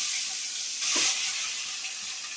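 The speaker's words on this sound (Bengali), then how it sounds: "গরম হয়ে গেছে, এবার কড়ার মধ্যে ডিমগুলো দিয়ে দেবো।" Eggs dropped into a hot nonstick pan, giving a quiet steady sizzle with one brief louder hissing burst partway through.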